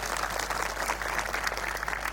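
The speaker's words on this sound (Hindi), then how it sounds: "एक बार जोरदार तालियों के साथ स्वागत करेंगे" Audience applause at a satsang gathering in Ellenabad, welcoming a swami to speak: steady, dense clapping from a crowd, continuous and fairly loud throughout with no talk over it.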